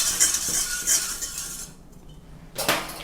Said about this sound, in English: So I'm just going to give that one a stir.